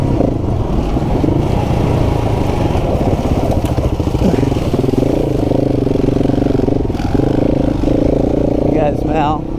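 A Honda CRF 300 Rally motorcycle runs flat out, its steady, loud engine drone holding throughout with slight pitch shifts, while a voice talks over it near the end.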